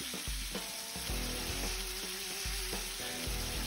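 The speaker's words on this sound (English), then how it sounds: "We're going to hit the meat into a nice hot sizzling pan." Beef fillet sears in a hot oiled pan, giving a steady loud sizzle and crackle with a few soft knocks of the meat shifting, and no one speaking.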